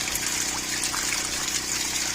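Iron-smelling water from a freshly drilled backyard well pours steadily into a container, a continuous close gushing rush with no breaks and no talking.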